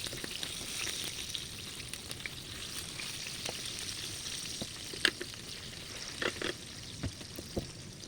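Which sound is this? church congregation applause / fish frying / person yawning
fish frying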